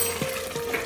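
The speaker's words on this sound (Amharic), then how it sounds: "እኔ ቅቤን አብሬ ነው የምጠብሰው" Berbere frying with butter in a pan for Ethiopian shekla siga wot makes a brief, close, steady sizzle, broken by a few soft stirring scrapes.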